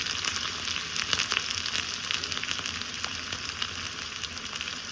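Garlic fries in a pan of oil for drumstick, mango and brinjal sambar, giving a constant crackling sizzle with scattered pops and no talking.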